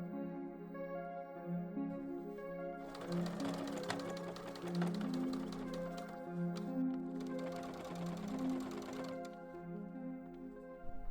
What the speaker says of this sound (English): you can machine stitch on all of the main portions